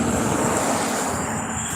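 A creek flows outdoors during a walk near downtown Ashland, a steady, full rush of water close to the microphone with some wind buffeting and no voices.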